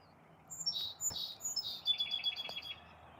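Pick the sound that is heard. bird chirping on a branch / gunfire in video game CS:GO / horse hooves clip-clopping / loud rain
bird chirping on a branch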